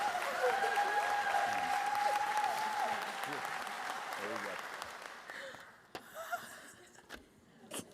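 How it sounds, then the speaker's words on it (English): A school ceremony audience gives sustained applause for the 2021 Teacher of the Year at Henry County Schools. A thin tonal whine sits over the clapping, which fades after about five seconds into scattered sounds and a few voices. "Round of applause for Jennifer Brown, your 2021 Teacher of the Year."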